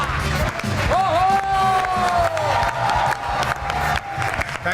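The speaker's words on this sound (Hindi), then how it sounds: "इतनी तालियां तो मेरे लिए भी नहीं कभी बजी" A studio audience at a comedy show applauds and cheers steadily throughout, a dense wash of clapping with a voice speaking or calling out over it.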